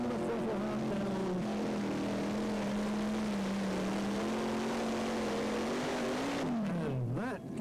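A pulling tractor accelerates down the track at a 1997 European tractor pulling event in Windenhof, France, its engine a steady, distant roar that drones on before dropping away at the end.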